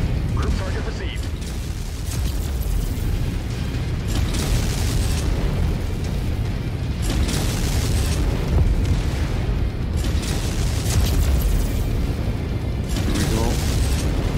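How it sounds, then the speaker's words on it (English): Rockets launching and exploding in Mechwarrior 5 Mercenaries combat, a dense continuous roar of booms and bursts that barely lets up, loud and close, with a brief voice speaking over it. "being just able to hold down mouse button 2 and continually launch rockets like that"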